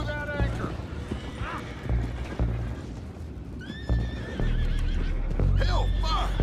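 Horses whinny several times in Red Dead Redemption 2, their neighs rising over a steady low rumble, with a clip-clop of hooves and scattered thuds around them.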